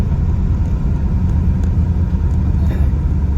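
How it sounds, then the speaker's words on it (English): Loud, constant low rumble of tire noise from a car being driven on the road, a steady droning roar with no breaks, heard from inside the vehicle. "A lot of tire noise."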